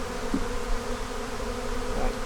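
Honey bees hum steadily around a hive box after the queen and brood were moved to the top, a close, continuous buzz that keeps up the whole time with a few louder passes near the listener.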